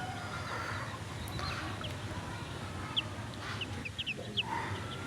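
Columbia Light Brahma chickens on a small farm give a few scattered, soft clucks over a constant low background hum, with no voices.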